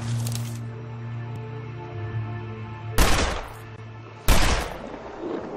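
Two loud, sharp rifle shots fired at a bear in The Long Dark crack out about a second apart, each ringing off into a short tail, over a low droning soundtrack.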